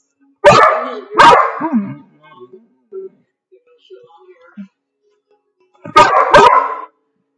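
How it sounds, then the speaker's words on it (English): A dog gives a few sharp, loud barks close by, two near the start and two more later, with soft whimpering sounds in the quiet gap between them. "No barking."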